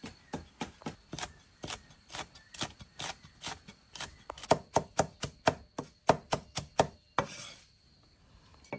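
A knife chops garlic and small chilies on a board: about two dozen sharp, close strikes in quick uneven bursts, ending with a short scrape. No voices.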